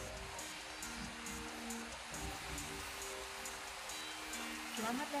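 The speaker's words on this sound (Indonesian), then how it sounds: "Keadaan hujan, coy. Nyampe-nyampe hujan." Rain falls steadily, a constant broad hiss close by, with a low engine-like hum and faint tones running beneath it throughout.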